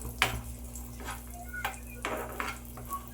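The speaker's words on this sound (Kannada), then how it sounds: "ಇವನ್ನ ಚೆನ್ನಾಗಿ ಫ್ರೈ ಮಾಡ್ಕೊಳ್ಳೋಣ ತುಪ್ಪದಲ್ಲೇ" Cashews and raisins frying in ghee in a pan for carrot halwa: a soft, low sizzle under scattered clicks and scrapes of a spoon stirring against the metal, fairly close and fairly quiet.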